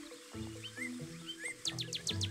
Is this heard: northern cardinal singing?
yes